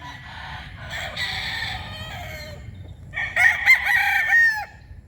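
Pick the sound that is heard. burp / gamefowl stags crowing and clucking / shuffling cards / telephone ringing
gamefowl stags crowing and clucking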